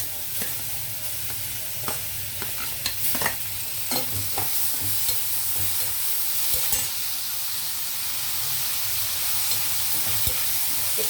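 Chopped tomatoes and onions fry in a pan for a bhindi masala curry, a steady broadband sizzle running throughout with intermittent scraping stir strokes, close and continuous.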